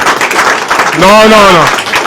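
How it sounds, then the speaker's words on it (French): An audience at a press conference applauds for the head of state, steady loud clapping throughout with a single voice calling out over it partway through. "Il faut applaudir pour le chef de l'État."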